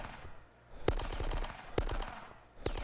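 Gunfire from the 2002 PC shooter Die Hard: Nakatomi Plaza, with short rapid bursts of automatic fire crackling out three times in quick succession over a low game background; no one speaks.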